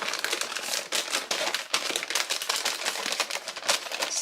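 Creased paper box corners being folded, giving a dense, continuous crinkling and crackling of stiff paper that stays close and fairly loud, with no voices.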